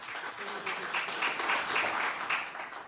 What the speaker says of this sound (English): Otavi, give yourself a round of applause.